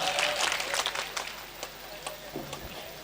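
Audience applause at a mushaira poetry gathering in Bihar, a dense burst of clapping that thins and fades over a few seconds, with voices faintly mixed in.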